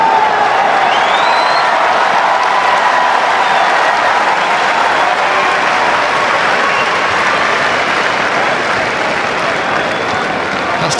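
A Wimbledon crowd at a Djokovic–Federer match applauds and cheers, a dense, loud, sustained roar of clapping with voices mixed in that barely fades across the whole stretch.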